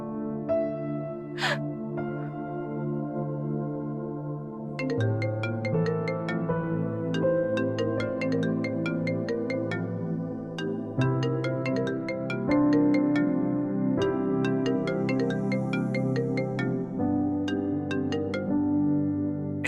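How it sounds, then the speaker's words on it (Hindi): A mobile phone rings with a melodic electronic ringtone whose repeating tune plays steadily and clearly for about twenty seconds, with no talking over it. "निशा तुम मेरा फोन क्यों नहीं उठा रही?"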